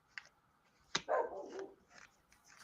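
A puppy barks once sharply in the background, then lets out a longer whining yelp, with fainter short yips trailing off afterward.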